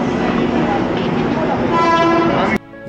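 A passenger train stands at Vadodara station at night with a steady rumbling hum. Brief tonal horn-like notes sound near the end before the noise cuts off abruptly, and voices are faintly present.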